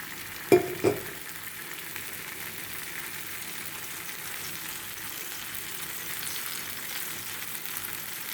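Ragi dosa batter sizzling in oil on a hot pan, a steady bright frying hiss that runs throughout after two sharp knocks near the start.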